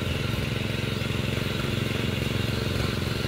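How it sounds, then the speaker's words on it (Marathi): A tractor engine runs in a flooded rice field at planting time, a steady close chugging drone with an even pulsing rhythm and no other sounds over it. "मग डायरेक्ट ट्रॅक्टर फिरवला की भात लावणार"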